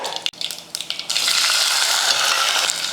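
Small onions, garlic cloves and green chilies sautéing in hot oil, opening with a few quick stirring knocks and scrapes before a loud, steady sizzle takes over, close to the pan with no talking.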